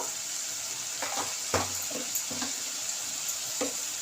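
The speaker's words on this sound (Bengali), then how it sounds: "এবার দিয়ে দেব জিরে গুঁড়ো, 1/2 চামচ মতো জিরে গুঁড়ো। এবার ভালো করে কষিয়ে নেব।" A masala with cumin powder sautés in a pan, producing a steady hiss of frying with a few distinct scraping strokes of a spoon and light clinks, no speech.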